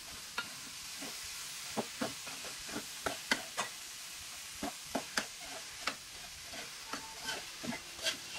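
Squash (kalabasa) cooking in a pan is stirred with a utensil, giving light sizzling under a series of sharp scraping and tapping strokes at an irregular pace.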